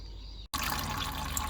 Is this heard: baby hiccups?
no